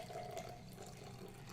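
Water pours steadily over coffee grounds, a soft, continuous trickle heard close up at low volume, with no talking.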